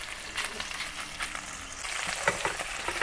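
Lamb pieces fry in hot oil for Xinjiang-style cumin lamb, giving a dense, crackling sizzle with bursts of spattering and a louder pop past the midpoint.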